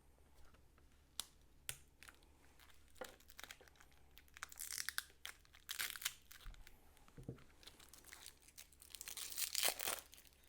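Plastic wrapping crinkles on a Citizen NY0040 dive watch pillow, close and fairly quiet, in irregular crackling bursts with a few sharp clicks, growing busier toward the end.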